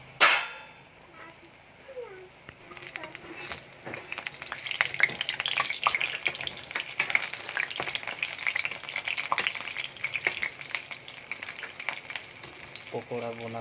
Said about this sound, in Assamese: মোৰ পত্নীয়ে ধুনীয়াকৈ মানে পকোৰা বনাই আছে